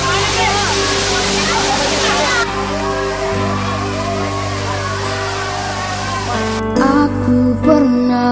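Rushing water from a waterfall on a camping outing, a steady broadband roar that continues throughout with voices and tonal music-like sounds layered over it.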